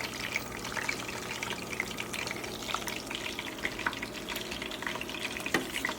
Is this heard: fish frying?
yes